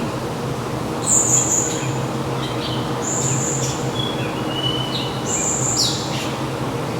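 Several birds chirp and trill in high, repeated calls inside a zoo aviary over a steady low background rumble, moderately loud, with no voices.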